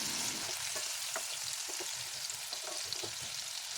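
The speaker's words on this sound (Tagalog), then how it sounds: "Isunod naman nating iprito ay ang talong." Eggplant frying in hot oil, cooked alongside milkfish, gives a steady loud sizzle and hiss with soft scattered pops and stirring clatter, heard without speech.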